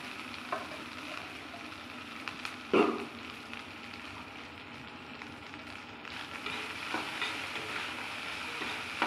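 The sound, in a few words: cooked rice added to pan and stir-fried for vegetable fried rice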